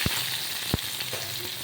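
Tomatoes drop into garlic and chillies frying in a pan for dal khichdi, giving two soft thuds over a loud, steady sizzle of hot oil.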